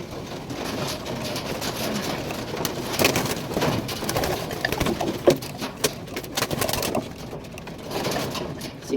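Pigeons coo steadily in a loft, a continuous layered murmur of several birds close by with no voices over them.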